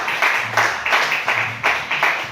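Applause from a church congregation for God during a worship service, broad bursts of clapping rising and falling in several waves, fairly loud and close, with no voices over it.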